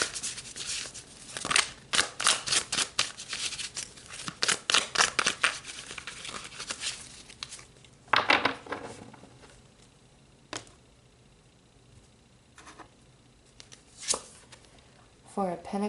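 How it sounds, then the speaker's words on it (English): A deck of tarot cards is shuffled by hand in quick riffling and flicking bursts, close and crisp, followed by sparser card slaps and slides, while a person talks. "let's pull some tarot."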